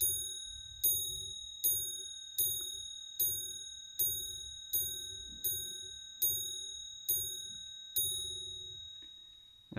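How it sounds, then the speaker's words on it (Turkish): Antique marble mantel clock with a fireplace-style case strikes its gong about a dozen times in a slow, even series, each bright ringing stroke decaying before the next, with no speech. "Saatimiz gong vurdu."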